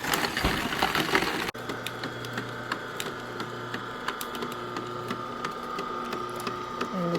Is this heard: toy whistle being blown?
no